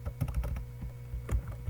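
Rapid keystrokes on a computer keyboard while C code is typed in Turbo C++, a close, uneven run of clicks with a few heavier key presses spread across the short stretch.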